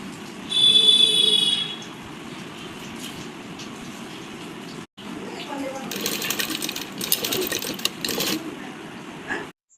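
A sewing machine stitches a strip onto a baby frock sleeve, running in loud mechanical bursts with a brief pause and someone talking between runs.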